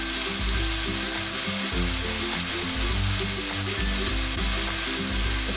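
A burger fries in a pan with a steady broadband sizzle that holds through the whole stretch, loud and close, while a low, uneven rumble, probably a kitchen vent fan, runs underneath.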